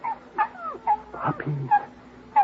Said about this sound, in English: Puppies, Dollar. Yes, sir. 6 of them